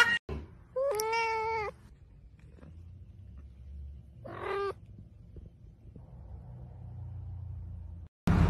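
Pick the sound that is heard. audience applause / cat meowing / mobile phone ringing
cat meowing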